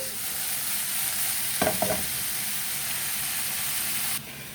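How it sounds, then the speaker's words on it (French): Bacon lardons sweat and fry in a pan with a steady, close sizzle and hiss, briefly broken by a couple of utensil stirring clatters, before the sound drops off near the end. "On a mes lardons en train de suer un peu."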